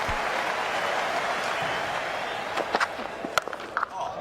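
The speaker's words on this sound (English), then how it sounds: "Warm applause." A large cricket crowd at an England versus Australia one-day international applauds warmly after a big innings, a broad distant roar of clapping with a few sharper knocks near the end.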